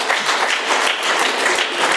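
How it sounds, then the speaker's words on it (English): Steady, dense clapping from an Alcoholics Anonymous meeting audience, loud and continuous throughout with no voices over it. "another round of applause"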